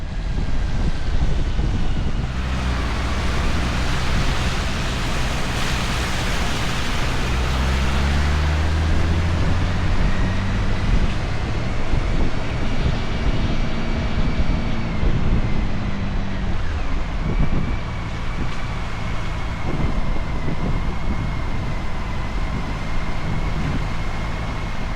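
A motorcycle rides through the Holland Tunnel in New York City on a rainy trip. A loud, unbroken roar of engine and wind fills the enclosed space, and the engine note shifts and rises partway through.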